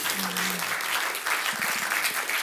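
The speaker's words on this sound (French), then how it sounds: "Vous pouvez les applaudir." Audience applause at the close of a hydrogen seminar, a steady dense wash of many hands clapping throughout, with a brief voice-like tone early and a short murmur in the middle.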